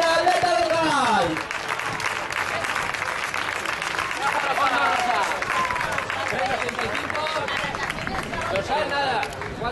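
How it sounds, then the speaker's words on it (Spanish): Crowd applause and cheering for a runner finishing the Lantzeluze 2011 race, with a local female athlete crossing the line; dense, steady clapping throughout, mixed with a commentator's voice and crowd chatter. "un fuerte aplauso también"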